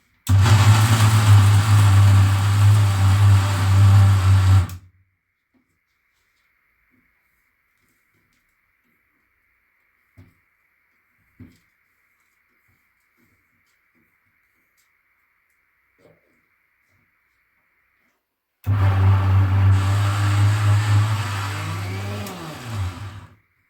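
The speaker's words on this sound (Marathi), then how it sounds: "हे सगळं परत मिक्सरला मी फिरवून घेणार आहे" A kitchen mixer grinds sesame seeds and peanuts for sesame laddoos, running in two loud, steady whirring bursts with a long near-silent gap between them.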